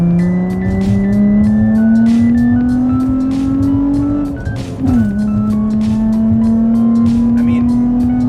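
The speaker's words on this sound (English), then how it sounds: "I'll do a downshift right here." A Nissan 350Z fitted with an ISR Performance single GT exhaust drones loudly as it climbs in revs, then blips sharply on a downshift and settles into a lower, steady tone, close and dominant.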